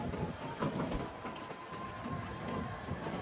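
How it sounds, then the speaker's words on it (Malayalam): A train rolls past close by near a park, a steady broadband rumble with rhythmic wheel clatter and a faint sustained tone, continuous and fairly loud throughout. "ട്രെയിൻ ഈ കൂടെ ഇങ്ങനെ വന്നിട്ടേ ട്രെയിൻ പോകുന്നുണ്ട്"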